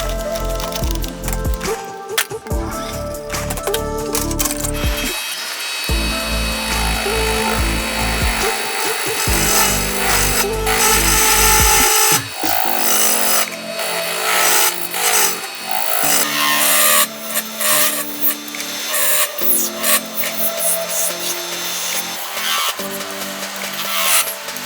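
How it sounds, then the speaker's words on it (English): Epoxy resin block encasing a McDonald's burger, fries and nuggets being turned on a lathe, with loud continuous scraping and rasping of the cutting tool against the resin, pulsing in rough bursts over a low motor drone, no talk. "smash this on the lathe"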